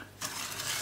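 Sugar heating in a pan for homemade caramel with cream is stirred gently, giving a soft, close scraping and hiss that starts after a brief pause and continues evenly at low volume.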